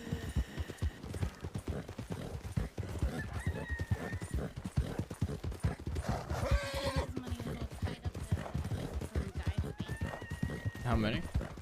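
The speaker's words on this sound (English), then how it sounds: "I heard horses, saw at least 2." Horses clip-clop steadily with repeated hoofbeats, and whinnies rise above them, in a Red Dead Redemption 2 roleplay game set in the Old West. The hooves go on throughout under a dense mix of other game sounds, with a couple of neighs standing out.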